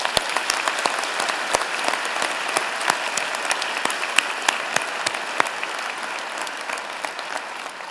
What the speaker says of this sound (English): with a vigorous round of applause.